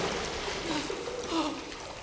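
Steady flowing water in the video game Hellblade 2, a continuous near stream with trickling detail, alone without voices.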